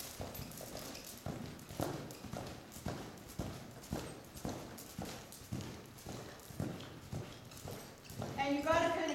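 A young, still-growing horse lopes steadily, its hoofbeats falling in an even three-beat clip-clop rhythm close by, with a riding instructor's voice talking over the gait and a brief high whinny-like sound near the end.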